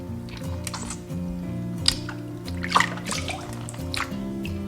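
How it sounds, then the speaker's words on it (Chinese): Cuttlefish pieces being rinsed in clean water produce wet splashes, drips and squishy handling noises over a steady background hum, close and irregular with no speech. "再用清水清洗一遍"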